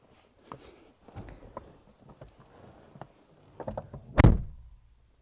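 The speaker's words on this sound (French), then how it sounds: "De l'intérieur, la porte, elle fait vraiment sérieux." A Renault GTS car door shuts with one solid, heavy thunk near the end, after a series of light clicks and handling noises nearby.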